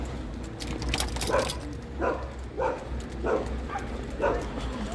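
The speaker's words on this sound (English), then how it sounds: "the hound is barking as always" A hound barks in a steady, repeating rhythm at a moderate distance, about five or six barks, under a low background rumble.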